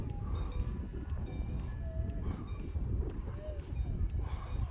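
Wind buffets the microphone outdoors at an RC jet flying field, a loud continuous low rumble with gusty surges, while faint tonal whines and light clicks come and go in the background.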